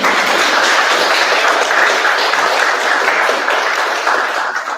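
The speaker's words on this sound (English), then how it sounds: "So big round of applause for me" Applause from a conference audience, a dense, steady wash of many hands clapping at close range for the whole stretch with no voices over it.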